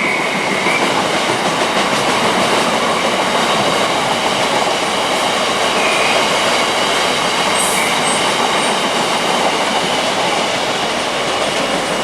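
Locomotive 66030 thunders at speed through Reading station, a loud, sustained roar of wheels and rumble with a faint high squeal, filling the whole stretch without any voices.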